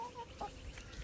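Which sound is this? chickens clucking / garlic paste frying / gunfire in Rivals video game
chickens clucking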